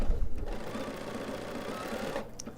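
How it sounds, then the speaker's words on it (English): Bernina 780 sewing machine whirring briefly up close as its automatic thread cutter secures the stitch and snips the thread, a short mechanical buzz with a faint click near the end. "It secures the stitch and cuts the thread"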